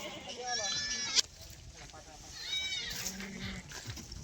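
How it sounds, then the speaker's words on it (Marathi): Kathiawadi goats bleat in two close, wavering calls while being loaded into a pickup truck, with a sharp knock between them and low voices in the background. "शेळ्या 4 शेळ्या दिल्या आहे 25 प्रमाणे. ही बघा, ही त्यांनी गाडी आणली पिकअप. बाकीच्या शेळ्या गेल्या भरून."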